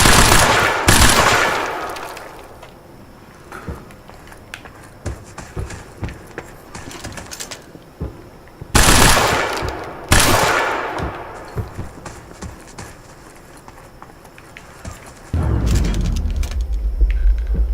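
Light machine gun fire in the shooter game Quantum Break, with loud bursts of automatic shots at the start and again midway, separated by quieter stretches of scattered gameplay sounds and a low rumble near the end.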